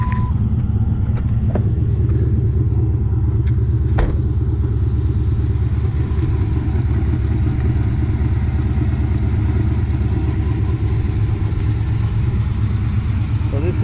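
A 2009 Dodge Charger SRT8 with the 6.1 engine idles with a deep, loud, steady rumble and a throbbing low pulse, plus a few faint clicks over about fourteen seconds.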